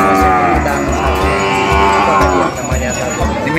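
Limousin and Simmental cattle on a farm lowing loudly, long deep moos overlapping close by, with no talk.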